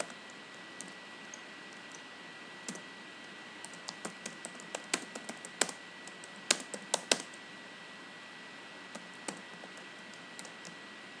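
Keys on a computer keyboard clatter as a Python program is typed, a quiet run of irregular clicks in bursts over a steady low hiss, with no voices.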